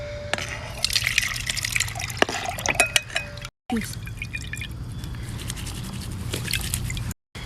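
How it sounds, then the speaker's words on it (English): Mashed fruit juice poured through a strainer into a glass, a trickling, dripping liquid stream with small clinks, briefly cut off twice, with soft background noise throughout. "Now you strain your juice."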